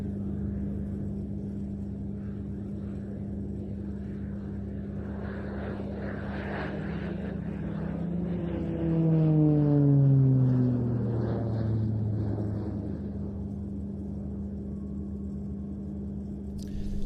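An aerobatic airplane flies a display routine at an airshow practice in Leszno. Its steady engine drone swells and falls, with a clear pitch sweep downward as it passes near, then fades back to a distant hum.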